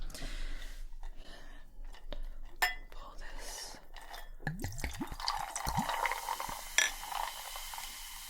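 Tonic poured over ice into a cocktail glass gives soft fizzing and trickling with light clinks of ice and glass, close and quiet, with faint whispered speech at moments.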